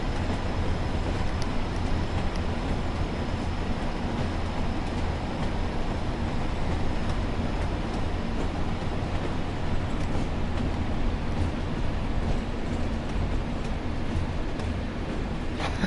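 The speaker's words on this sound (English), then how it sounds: "We're going to have to slow our train down now." Pacer diesel train running on the Tees Valley Line in Train Sim World 4, a continuous loud rumble of engine and wheels on rails, steady and unbroken with no talking.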